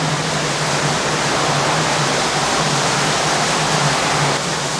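Steady, loud roar of water rushing down inside the Greers Ferry hydropower dam near its base, a dense continuous wash with a low hum running beneath, no pauses or voices.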